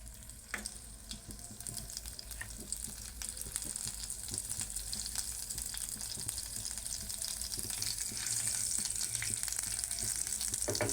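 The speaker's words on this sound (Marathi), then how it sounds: "एक चमचा तूप घेतलेला आहे याच्यामध्ये खसखस टाकून घेऊयात" A spoonful of poppy seeds roasts in ghee for sweet modak filling, giving a soft, continuous sizzle that grows slightly louder toward the end, with no voices.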